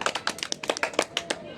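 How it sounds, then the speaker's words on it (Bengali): A group of children clap together at a kids' quiz game, giving a quick burst of sharp, close hand claps in an uneven patter that lasts over a second. "হাততালি দাও।"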